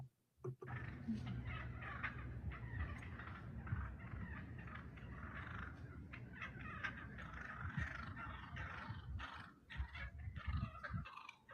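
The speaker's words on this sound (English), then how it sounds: "He's got these turkeys following him." Wild turkeys gobbling repeatedly while trailing a mailman outdoors, with close, overlapping bursts of calls that keep coming throughout.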